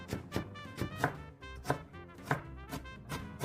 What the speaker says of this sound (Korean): 당근은 양배추보단 곱게 다져주시고요